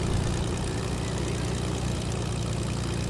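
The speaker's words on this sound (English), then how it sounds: "can you hear that plane?" In the Fortnite video game, an airplane engine drones steadily overhead, a constant low propeller hum that fills the moment with no talking.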